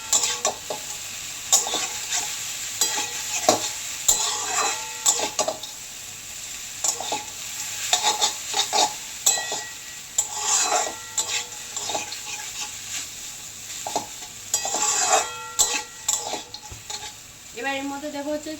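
Maggi noodles with peanuts are stirred in a pan, the utensil scraping and clinking in irregular bursts over a soft sizzle, close and fairly loud with no talking.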